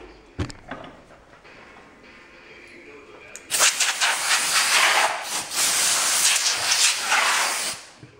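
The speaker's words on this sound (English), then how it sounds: "use this compressed air to clean out underneath here from the sawdust" Compressed air blasts sawdust out from underneath a homemade tank's track pads, a loud, close hiss starting a few seconds in and lasting to the end, after a quiet start with a few light knocks.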